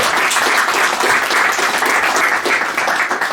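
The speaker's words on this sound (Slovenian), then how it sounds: "En aplavz za njo." Dense, even applause from an audience in an auditorium at a Slovenian medical history lecture, loud and sustained throughout, no speech on top.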